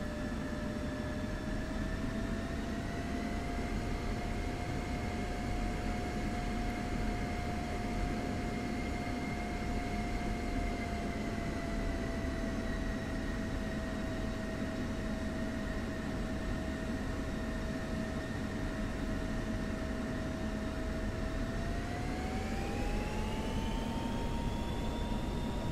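An F-16C Viper jet engine in the DCS flight simulator, taxiing toward the runway, a steady whining turbine tone with a rising pitch near the end as thrust increases, heard alone against a constant roar.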